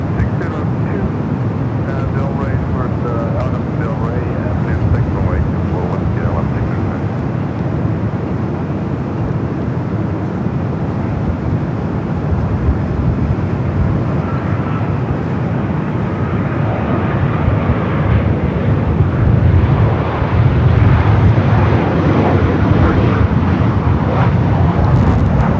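A Virgin Atlantic Dreamliner airliner at LAX in gusty winds: a sustained jet engine rumble with buffeting wind noise, steady and fairly loud, with a commentator talking over it.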